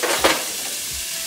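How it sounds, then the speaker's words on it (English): Onions sizzle in hot oil in a pan at medium-low heat, a steady close crackle broken by a few scraping stirs. "they be sizzling and I want them to have all the oil get all over them"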